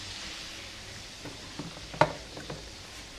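Bottle gourd added to hot oil in a Bengali home kitchen, giving a faint, steady sizzle with scattered light pops and one sharp clink partway through, no voices.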